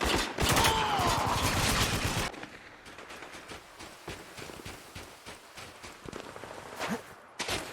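Video game desert battle in a Dubai city setting: a burst of rapid gunfire at the start, then scattered lighter shots and footstep-like clatter, loud at first and thinner afterward.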